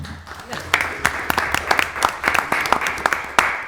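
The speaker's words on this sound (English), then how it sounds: "I still have to applaud" Applause in a city council chamber during a December meeting: uneven, moderately loud clapping from a modest group, with scattered sharp individual claps over a few seconds and a low background murmur.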